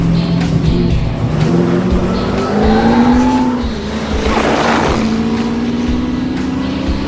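A drag race car launches down the track with a loud, sustained engine roar whose pitch sweeps upward through the gears, mixed with tire noise and strong, continuous close-up rumble.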